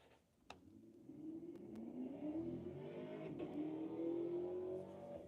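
A Chevrolet Camaro race car accelerates along a track, its engine rising into a sustained whine and roar that holds loud and steady after a brief knock at the start.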